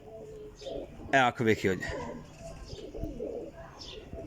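Breeding pigeons give a short burst of cooing close by while someone talks over a busy background of soft thumps and rustles.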